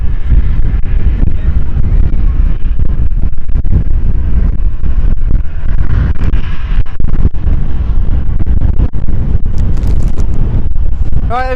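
Wind gusting across the microphone at an airport visitor park, a steady loud rumble with distant aircraft noise underneath.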